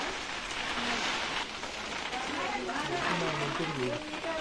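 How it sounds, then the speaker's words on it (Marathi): Light rain patters steadily on surfaces outdoors at a mango orchard during planting, a faint, even hiss of drops under nearby voices talking throughout. "आता थोडासा पाऊस आलाय त्यामुळे आम्ही थांबतोय."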